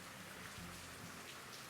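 Rain falls steadily on a rainy day in a coastal mangrove forest near a black sand beach in Thailand, a soft continuous hiss of drops heard faintly at a distance with no voices.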